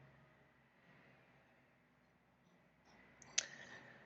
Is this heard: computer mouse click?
yes